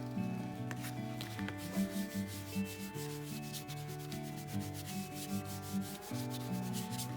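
A cloth rubs water-based dye into leather in steady, continuous strokes, with soft music playing alongside and no talking.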